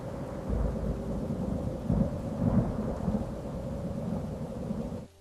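Thunderstorm with rain, low rumbling thunder rolling and swelling over steady falling rain, close and sustained, ending abruptly.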